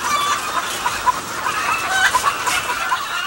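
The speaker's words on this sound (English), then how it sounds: "the sound of happy chickens" Egg-laying hens in a large California chicken house cluck continuously as a dense, busy crowd, with overlapping calls rising and falling close by and no talk.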